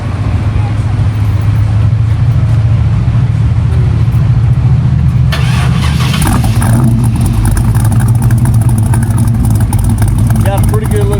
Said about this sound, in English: I'm gonna let Greg fire this old girl up and see what she sounds like.